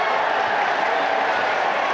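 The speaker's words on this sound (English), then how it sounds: "Why are the City fans cheering?" Manchester City football fans in a Premier League stadium cheering a penalty decision against Southampton; a loud, continuous crowd roar with no breaks, fairly close and full.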